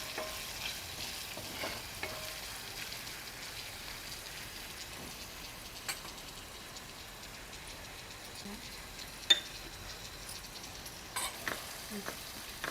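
Red chili powder and spices stir-fried for a prawn pickle, with a steady soft sizzle under scattered scraping taps of a spoon against the pan throughout, close and fairly quiet with no talking.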